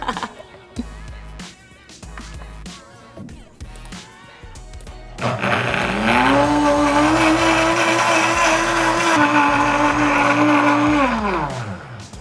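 A blender whirs up to a loud, steady high-pitched roar while grinding sugar, after some brief clattering and handling noises, then winds down at the end.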